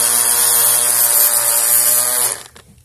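A rotating power tool cuts serrations into small lock security pins with a loud, steady high-pitched whine that runs continuously, then spins down and stops near the end.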